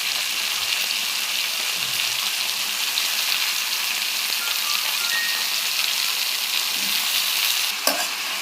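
Eggplant pieces frying in a pan with onions and green chillies, giving a loud, continuous sizzle with steady crackle throughout and a faint knock near the end.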